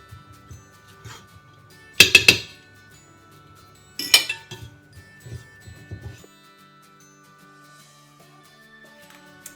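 A fork mixing cheese scone dough in a bowl, with two short bursts of sharp metallic clinks and scrapes against the bowl, followed by softer dull taps, close up with quiet gaps between.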